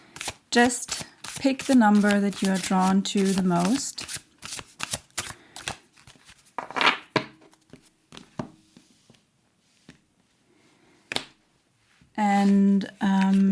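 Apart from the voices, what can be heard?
shuffling tarot cards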